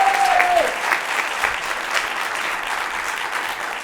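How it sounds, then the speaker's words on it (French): Studio audience applause on a French comedy show, a full, even burst of clapping that starts loud and stays sustained, with a brief tonal whistle-like sound near the start. "On peut applaudir, mesdames et messieurs, déjà pour commencer, Pilar, qui est juste à côté."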